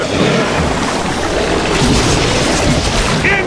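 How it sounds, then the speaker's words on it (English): A thunder attack in the video game Ghostbusters Remastered fills the scene with a dense, loud, continuous rumbling roar that holds steady for several seconds, with no talk. "They're bringing some thunder!"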